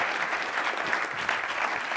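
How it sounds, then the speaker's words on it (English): Audience applause at a hackathon program session at a ministry, a steady, fairly quiet wash of many hands clapping for about two seconds with no talking over it. "we have a huge round of applause"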